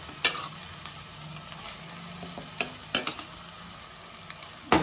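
Ground masala paste added to mutton frying in a pan crackles under a steady sizzle, broken by several sharp scrapes and clanks of a spoon stirring against the pan, with no talking.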